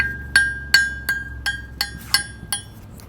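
A hammer strikes a cast iron anvil eight times at a steady pace, each blow a dull, short metallic clank close by.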